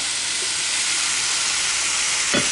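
Vinegar poured into a pan of sizzling Kerala-style mango pickle, giving a steady, close hiss and sizzle throughout with a brief bubbling burst near the end.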